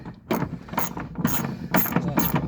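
A ratchet working a bolt on a 2021–24 Ford F150 wheel well liner, with quick bursts of clicking in several short strokes, close and fairly loud.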